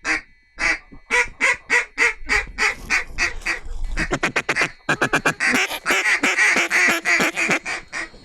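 Ducks call during a duck hunt in Arkansas: a rapid series of loud, nasal quacks, first in spaced pulses, then in a faster, denser run, heard close up with no talk over it.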